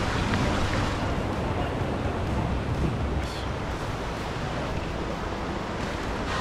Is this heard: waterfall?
yes